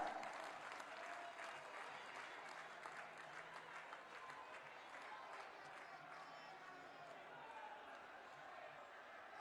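A big outdoor rally crowd in Dwarka, New Delhi claps loudly for Prime Minister Narendra Modi. The sustained, dense applause runs throughout, easing slightly toward the end, with a faint background voice beneath.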